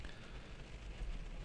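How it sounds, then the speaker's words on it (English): Steady rain pattering on a surface, a soft, even hiss of drops that stays constant and quiet with no other sounds. "I'm going to keep the rain and smoking sounds going throughout"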